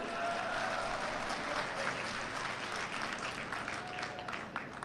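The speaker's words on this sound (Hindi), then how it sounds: "ताली बज रही कम तो फिर बोलूं कि नहीं बोलूं?" Crowd of farmers clapping at a Madhya Pradesh public meeting held by the chief minister, a steady moderately loud wash of applause that continues for about five seconds, with faint voices underneath.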